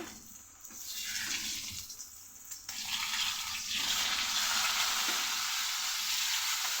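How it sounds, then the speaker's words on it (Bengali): A soft, continuous hiss of fish and vegetables frying in oil, fairly quiet and steady, with no talking. "এদিকে আমার মাছ ভাজা আর পটল ভাজা কত দূর কি হলো দেখতে হবে"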